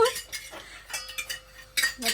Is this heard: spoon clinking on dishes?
yes